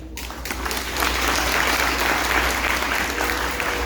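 An audience of parents and guests at a graduation ceremony applauds the graduating students. The clapping swells within the first second into a full, steady roar that holds to the end over a low hum.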